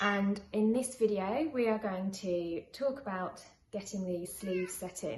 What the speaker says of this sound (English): Excuse the cat meowing.